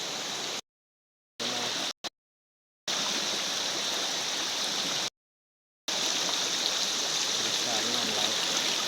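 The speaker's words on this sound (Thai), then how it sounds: "น้ำไหล" Water of a forest stream rushes continuously in a loud, dense wash, broken by several abrupt silent gaps, with faint talk beneath it.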